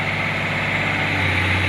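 A diesel excavator engine idles steadily, its low, continuous hum and vibration close by and loud, with no voices over it, on a machine being checked for low power.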